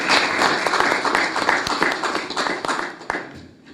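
Several people clap in a brisk rhythm of close, sharp hand strikes that stay dense, then thin out and fade near the end.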